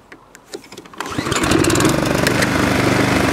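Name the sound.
Toro Recycler lawn mower engine starting and running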